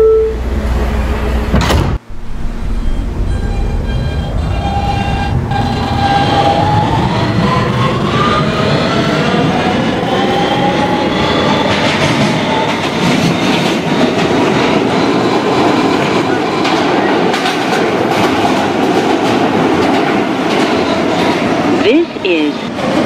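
An R160B Siemens subway train in a Roblox game runs along the BMT Broadway Line, with a motor whine rising in pitch as it accelerates, then a steady rumble and rhythmic clatter that continues loud to the end, under a spoken announcement.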